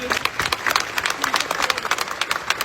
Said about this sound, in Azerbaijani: Əməkdar artist Cabir İmanov son mənzilə alqışlarla yola salınıb.